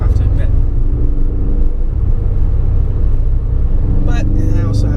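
A 2016 Ford Focus RS on the road, its engine a steady low rumble with tyre and wind noise heard from inside the cabin, while someone talks over it for most of the stretch.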